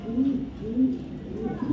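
A female pigeon, a young BRPFC club bird, gives three low rolling coos in a slow even rhythm, close and clear over a quiet background.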